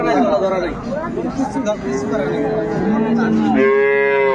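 Dairy cows and calves of improved breeds at Ambari cattle market in Dinajpur, several mooing loudly and close, overlapping, with a long low moo at the end and a murmur of market crowd chatter beneath.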